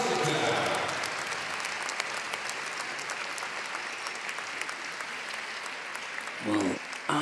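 Sustained applause from an arena crowd at a women's figure skating short program in Espoo, loud at first and then settling into a steady, slightly distant clapping, with a brief louder burst near the end.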